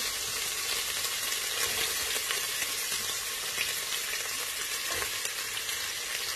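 Garlic and onion frying in a pan until golden, a dense, steady crackling sizzle that holds at an even loudness throughout, close up, with no one speaking.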